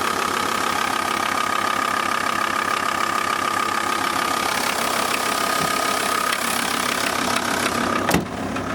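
A 1998 Volvo V70 TDI diesel engine idles with a steady, close, even drone and faint mechanical knocking, partway through an engine mount replacement; near the end a single brief clunk cuts through, and no one speaks.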